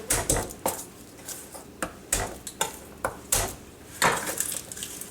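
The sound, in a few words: smashing garlic cloves in a kitchen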